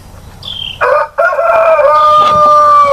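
A barnyard rooster of mixed breed crows loudly and close by, a rising call followed by a long sustained note, with a short break partway through and no talk.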